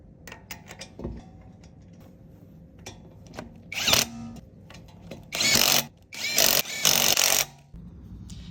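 Power tool bursts while a bolt is driven to mount a wheel on a BMW E36 during rear trailing arm bushing work; several short loud whirring runs in the second half, preceded by quieter clicks and handling noises.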